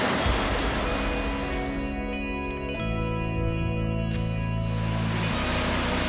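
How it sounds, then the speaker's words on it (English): Rushing water from river rapids and falls between Killarney and Freeland at ice-out, a steady, loud broadband roar that fills the scene without pause. "So these are the falls between Killarney and Freeland."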